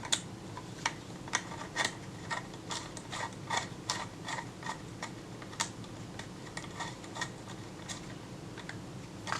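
Faint, close ticking and small clicks as a tool runs a retaining ring down on a Kodak Retina II type 142 camera, irregular light mechanical taps over a quiet background.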